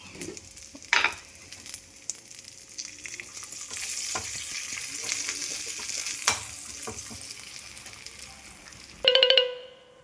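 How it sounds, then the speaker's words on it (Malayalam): Jackfruit pieces fry in coconut oil with chili powder, a steady loud sizzle with stirring scrapes throughout, ending in a brief louder burst of crackling and a faint electronic tone. "നമുക്ക് കുറച്ച് വെളിച്ചെണ്ണ ഒഴിച്ചിട്ട് കുറച്ച് മുളക് പൊടി ഇട്ട് കൊടുത്താൽ സാധനം സെറ്റായി."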